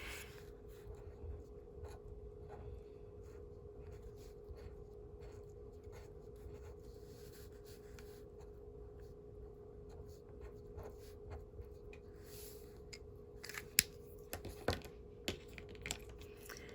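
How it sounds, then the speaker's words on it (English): A marker drawing a small flower on a Post-it note, soft squeaky scratching strokes with brief taps and pauses, close and quiet against a steady low hum. "you can just draw one flower, and you can draw it right on the rim"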